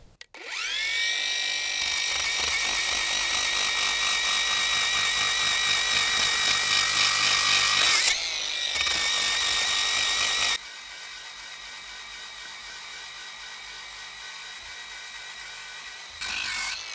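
An angle grinder fitted with an abrasive brush strips wood, running as a loud, steady, high whine for about ten seconds, then dropping to a quieter idle hum before a brief last burst.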